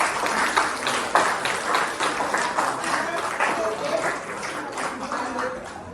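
Classroom audience applauding during a game-based operating systems lesson, a ragged, uneven patter of clapping that swells and thins, with voices mixed in underneath.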